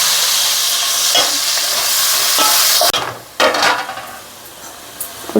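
Onions and green chillies frying in a pan for a Telugu taro root and dried fish pulusu. A loud, dense sizzle is stirred with scraping strokes, then cuts off abruptly and returns in brief, fainter bursts.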